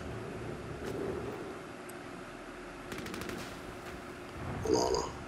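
Gunfire in a video game: clusters of sharp shots, a rapid burst near the middle and a louder close shot near the end, over steady low background noise.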